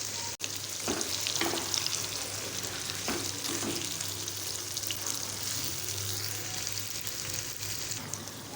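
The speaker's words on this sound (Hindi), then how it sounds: "चिकन में टिंडे डालने के बाद अच्छे से इसकी बुनाई करेंगे टिंडों की" Bottle gourd (tinda) fries with chicken in a pan, giving a continuous moderate sizzle broken by a few scraping stirs of a spoon, steady throughout.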